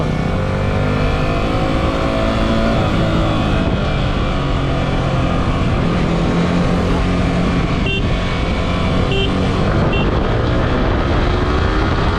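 A Yamaha R15 V3 and a Bajaj NS200, both BS6 motorcycles, drag racing from second gear, with loud, steady engine drone and rising revs that run close and continuous throughout.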